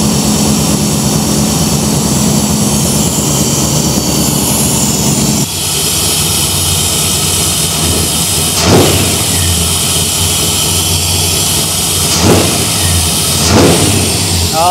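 A Chevy K10 truck with a Holley Terminator X Stealth fuel injection setup runs steadily just after starting, its loud, close idle sitting slightly high, with a couple of brief revs and no talking.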